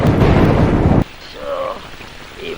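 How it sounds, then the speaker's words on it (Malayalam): Heavy monsoon rain pours in a dense, loud roar for about a second before cutting off abruptly, leaving quieter background sounds. "ഈ മഴ കണ്ടോ?"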